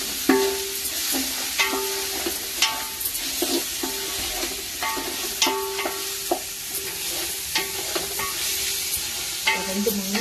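Green chilli, ginger and garlic paste sautés in a pan for peas pulao, a bright steady sizzle broken by rhythmic metal spatula taps and scrapes against the pan, close and continuous, no voices.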